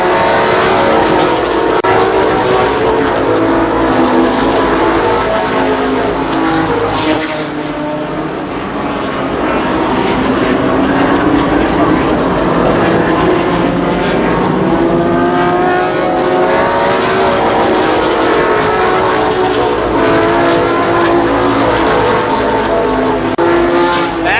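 ARCA Supercars race cars racing at Columbus Motor Speedway, a dense, loud, continuous roar of several engines with shifting pitches as the field passes, briefly dipping before surging back.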